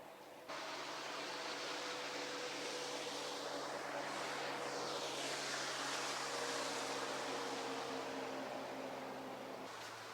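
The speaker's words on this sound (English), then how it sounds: "Here comes a jet ski." A jet ski passes on the water while fishing, its broad engine roar and hiss rising, holding loud and steady, then fading, with a sweeping pitch change as it goes by; no one speaks.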